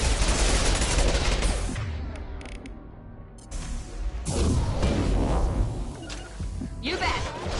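Gunfire in the video game Mass Effect 2 Legendary Edition: dense, continuous bursts of shots and impacts fill nearly the whole stretch, easing briefly in the middle before loud rapid fire resumes.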